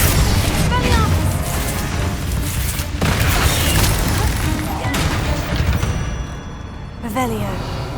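Spell explosions in the Hogwarts Legacy video game burst in quick succession, a dense series of loud booms and crackling blasts layered over game effects.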